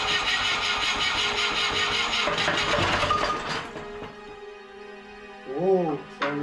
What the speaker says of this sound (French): Nouveau démarreur, torque pilote et démarrage.